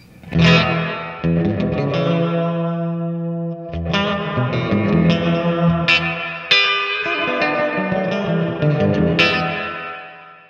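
Electric guitar played through a Wampler Reflection reverb pedal on its spring setting, fully wet: sustained chords and single notes ring out alone, washed in a dense, splashy reverb tail that fills the gaps between strums.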